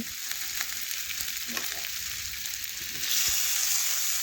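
Chopped tomato going into a pan of frying potatoes and spices for a Bengali prawn and tender bottle gourd dish, giving a steady close sizzle with brief stirring clatter, the frying hiss swelling louder near the end.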